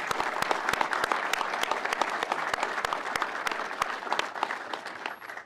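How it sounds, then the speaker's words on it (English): Audience at an annual meeting gives a round of applause as board members stand, many sharp, distinct claps close by over a continuous bed of clapping, tapering off at the end. "ask all of the members of the various boards who are here to please rise and just be recognized by a round of applause"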